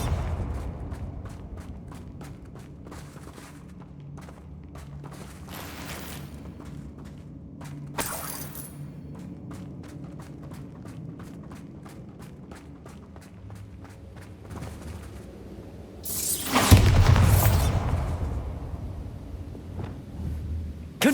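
A Bombarda blast spell cast at a damaged bridge in Hogwarts Legacy, heard as a loud broad burst late on after stretches of footsteps and mechanical clicking, with a brief sharp crack earlier.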